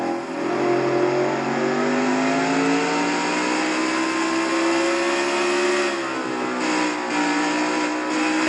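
A stock car accelerates hard in fourth gear at Road America during a Nationwide Series race, its loud engine droning steadily and rising in pitch for several seconds, with a slight dip near the end and no talk over it.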